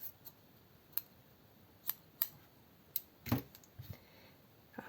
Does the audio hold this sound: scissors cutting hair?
yes